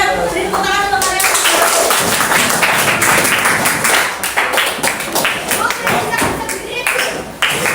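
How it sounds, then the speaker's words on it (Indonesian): A school class claps hands loudly and close by in a quick, ragged burst, with children's voices and chatter mixed in as the clapping goes on and tapers off. "beri tepuk tangan untuk kalian"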